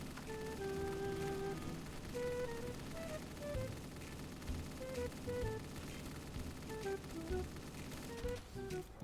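Rapid automatic gunfire from the Stock Option gun in Black Ops 3 Zombies on the Moon map, sharp shots rattling off in quick bursts under steady in-game music and effects.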